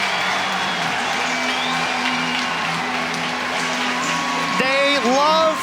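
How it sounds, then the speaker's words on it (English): A college lacrosse crowd at a Maryland vs Virginia game roars and cheers steadily as a broad wash of noise, with whistles and whoops rising near the end. "that gets the crowd fired up"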